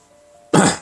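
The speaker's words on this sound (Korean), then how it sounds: "기침을 하느라 잠깐 멈췄습니다" A single sharp, close cough bursts out after a quiet pause with a faint hum, then trails off quickly.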